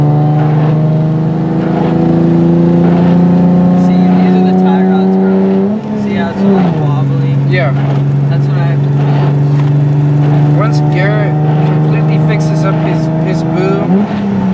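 Car engine revving while driving on slick roads in a storm, a loud, close, continuous drone that drops in pitch midway as the driver shifts, with voices talking over it.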